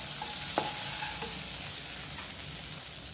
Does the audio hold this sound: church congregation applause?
no